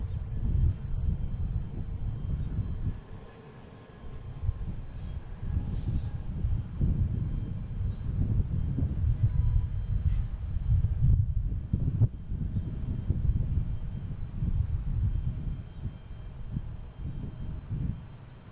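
A passenger jet takes off at Boston Logan International Airport, its engines giving a sustained low rumbling roar heard from a distance that swells and holds throughout, with no talk over it.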